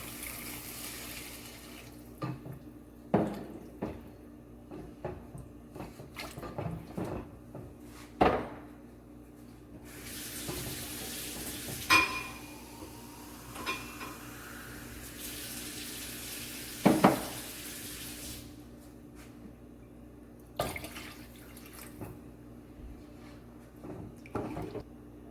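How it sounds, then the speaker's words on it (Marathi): Water for a Marathi-style egg curry is poured in bursts, splashing and trickling near the pot, with clinks and clatters of vessels between the pours and quiet gaps in between. "2 ग्लास मी पाणी ऍड करते याच्यात"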